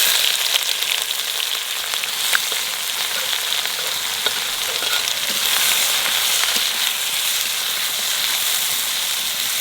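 Finely chopped onions fry in oil with cumin, bay leaf, cloves, cinnamon and cardamom, giving a steady, dense sizzle and crackle that runs without a break, close and fairly loud, with faint stirring scrapes.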